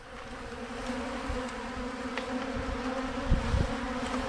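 Bees buzz in a steady, droning hum close by, with a few light knocks and rustles and no talking.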